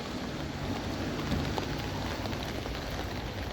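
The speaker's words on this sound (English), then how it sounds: "Yeah, it's still raining." Steady rain falls during an outdoor walk, a continuous dense hiss of drops with a low rumbling undertone, even and unbroken throughout with no voices.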